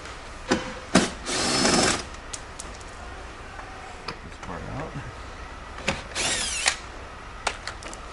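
A power drill backs bolts out of a Berin sleeper sofa frame during disassembly, heard close up as two sustained whirring bursts that rise and fall in pitch, with short clicks and knocks of handling scattered between them.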